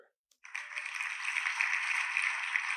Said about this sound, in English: You get hand claps, bruh